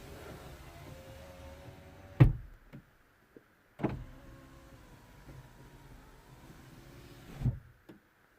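Electric window motor whirs steadily inside a BMW 123d E87 at the passenger door, punctuated by three sharp thumps as the glass stops or the door is handled, close and quiet with no talking.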